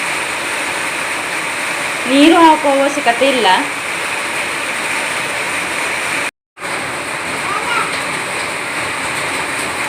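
A mixer grinder whirs steadily as it grinds jackfruit batter with coconut and jaggery, a continuous rushing drone under a voice speaking Kannada, with a brief cut partway through.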